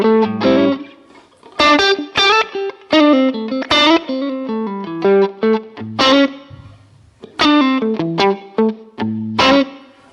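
Distorted electric guitar played through a Line 6 Helix preset with two cabinets and a legacy hall reverb, with choppy chord stabs and short riffs separated by brief gaps where the reverb tails off.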